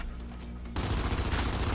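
Gunfire in the Gears Tactics video game bursts in abruptly after a quiet, humming stretch, a dense rapid volley of shots that carries on steadily to the end.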